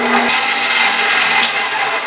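A stand mixer runs steadily while making tiramisu, putting out a loud, even motor whir with a brief tap near the start and a short scrape partway through, and no voices.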